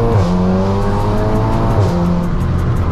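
Stage 3 big turbo Volkswagen Golf R with APR tuning accelerating at full throttle, a loud close-up engine roar climbing steadily in pitch through the gears, with no talking.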